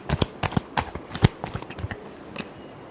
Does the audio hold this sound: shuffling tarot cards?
yes